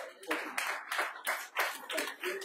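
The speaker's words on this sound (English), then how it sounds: "Let's give God a big clap for you." Church congregation at a Sunday morning service claps in a quick rhythmic burst of distinct claps, fairly quiet and close, with voices briefly mixed in.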